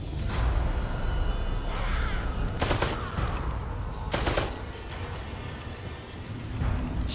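A few loud gunshots sound in The Evil Within 2, scattered cracks with short ringing tails over dense game ambience and rumble.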